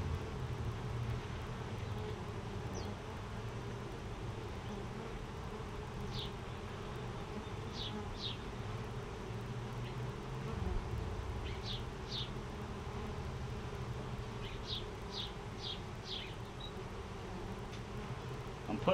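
Honey bees hum around open brood frames at a backyard hive, a steady low, continuous buzz throughout, with a few faint, brief high chirps scattered over it and no talking.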